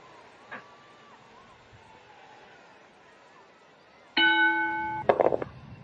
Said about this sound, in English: Bell sounds, action is underway.